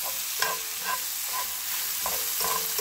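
Garlic and onions frying in a pan alongside apple give a steady, dense sizzle, punctuated by rhythmic stirring scrapes roughly every half second, close and continuous.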